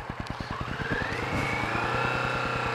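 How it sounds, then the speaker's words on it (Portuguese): A Kawasaki Vulcan S motorcycle is ridden close by. Its engine gives a steady rhythmic low throb that rises slightly in pitch as it pulls along, with no talk. "Nunca andei com uma moto desse calibre."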